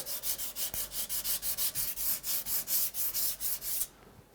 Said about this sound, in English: And I am using 220, but that sanding sponge is a little worn out